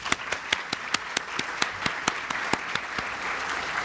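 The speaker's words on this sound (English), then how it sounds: "One more round of applause, that's brilliant." Audience applause at the Formula Student business plan presentation finals, a crowd clapping steadily with a few sharp individual claps standing out in a regular rhythm, moderately loud and without talk.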